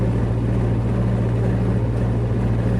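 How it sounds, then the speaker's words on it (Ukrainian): A steady, loud engine drone from an old, worn MTZ-80 tractor, with a low rhythmic throb holding constant throughout, with no voices. "Це також МТЗ, МТЗ-80. Ще старенький, гнилий вже весь, але ще працює."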